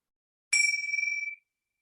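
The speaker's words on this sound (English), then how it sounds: "Listening to the sound of the bell as it drifts away, following the sound for as long as you can." A single bright bell strikes once, its clear ringing tone lingering briefly before fading away into silence.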